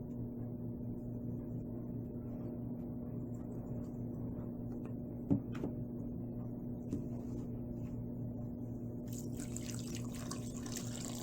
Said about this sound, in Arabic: وأصب ماء كافي للسلق